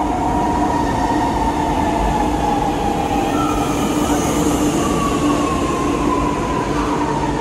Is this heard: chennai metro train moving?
yes